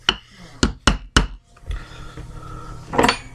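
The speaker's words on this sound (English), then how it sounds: "grab your hammer and just gently tap on it to get it to go into place" A hammer gently taps a pin into place while a Hi Point Compact 9mm pistol is reassembled: three sharp, close metallic taps in quick succession, followed by quieter handling noise.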